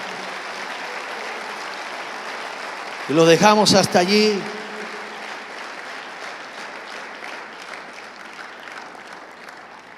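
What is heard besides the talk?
congregation applauding in church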